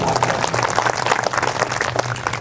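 Brief burst of clapping from listeners at a Hindu religious recitation of the Bhagavat Purana in a village, many hands in quick uneven rhythm, close and fairly loud, lasting a couple of seconds.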